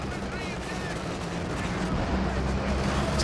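Battle fire in Company of Heroes 2, with an infantry support gun shelling a heavy mortar team amid a steady roar of gunfire and distant artillery thuds, continuous and dense throughout.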